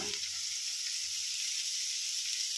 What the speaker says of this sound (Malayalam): ഈ ഉള്ളിയും ക്യാരറ്റും എല്ലാം കൂടെ ഇനി നല്ലപോലെ ഒന്ന് വഴട്ടിയെടുക്കാം